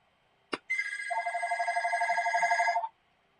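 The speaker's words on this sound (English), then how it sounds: "Seriously? Again with the phone?" Telephone ringing in a video game: a click, then one sustained electronic ring with a rapid warbling trill lasting about two seconds, clear and alone.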